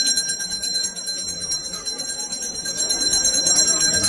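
Bell ringing at a temple fair procession for a village goddess, a rapid repeated metallic ringing that carries on steadily throughout over crowd noise and a voice.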